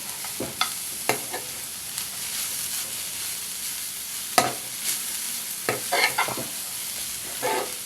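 Drumstick leaves and carrot stir-fry in a pan with turmeric and salt, a continuous close sizzle punctuated by repeated spatula scrapes and knocks at an uneven pace.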